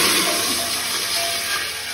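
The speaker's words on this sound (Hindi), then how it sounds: "ये एक लीटर पानी है तो इसको पहले हम हाफ डाल रहे हैं" Water, about half of one litre, pours steadily into a cooking pot for basmati rice pulao, a continuous close splashing gush with no talk over it.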